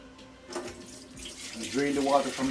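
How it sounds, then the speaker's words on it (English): Tap water runs into a kitchen sink while rice is washed, a faint trickle building to a steadier splashing stream with rising gurgles as the water fills around the grains. "I'm going to move over to the sink and I'm going to show you how to wash the rice"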